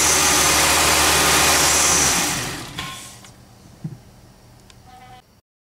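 A Dodge, Chrysler or Ram vehicle engine idles loudly right after starting, a steady rumble that fades away after a couple of seconds, leaving faint clicks and a brief tone.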